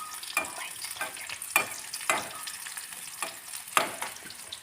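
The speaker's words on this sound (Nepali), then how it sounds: "अब यसलाई मजाले भुट्ने।" Finely chopped dates fry in hot ghee in a pan, heard as close, irregular scraping stirs with brief sizzling bursts every half second or so over a quiet background.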